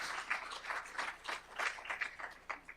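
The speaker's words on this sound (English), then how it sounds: "let's start by giving a round of applause to my colleagues, Emily Panacorvo and Matt Zeitlin." An audience at a clean energy conference panel's live podcast recording claps in steady, scattered applause that holds at an even level throughout, with no voices rising above it.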